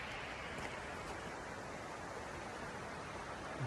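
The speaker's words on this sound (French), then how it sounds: "Une belle cascade." A waterfall in a mountain meadow rushes in a steady, even broadband hiss, faint and continuous with no voices.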